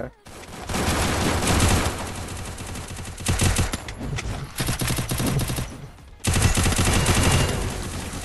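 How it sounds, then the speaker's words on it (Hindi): Sustained automatic fire from the Free Fire video game, loud and close, in rapid bursts that break off briefly and then resume, with some speech mixed in. "मारो गोलियां चलाओ।"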